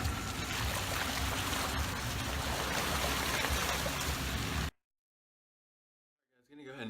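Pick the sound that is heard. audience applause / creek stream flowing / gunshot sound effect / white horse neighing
creek stream flowing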